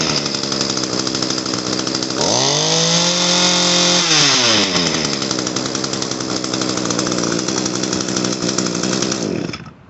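Echo PAS 225 string trimmer two-stroke engine running close and loud on a repair bench, a steady buzzing drone that dips and swings in pitch midway before settling, then cuts off at the end; no voices.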